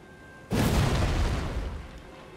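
Weapon art charge effect in Elden Ring, a sudden heavy boom-like burst after half a second of quiet, broadband and loud, then decaying over about a second and a half.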